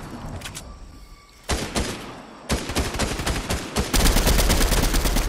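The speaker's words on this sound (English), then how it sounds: "Watch out, somebody's shooting." Video game gunfire in a multiplayer shooter, bursts of rapid automatic fire starting and stopping in several loud volleys that grow denser and louder toward the end, with no talk.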